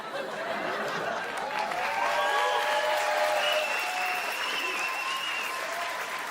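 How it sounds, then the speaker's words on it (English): Steady applause from a comedy club audience fills the room, with scattered laughter and cheers mixed into the sustained clapping. "Why are you guys clapping?"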